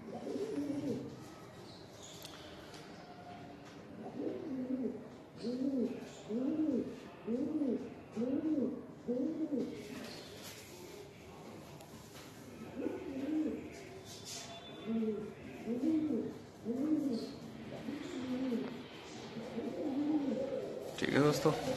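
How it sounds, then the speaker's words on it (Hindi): Pure Jante Punjabi Malwai pigeons coo in repeated soft, rolling bursts, close by, with short pauses between phrases and a faint background hum. "प्योर जंटे वाले कबूतर है भाई ये।"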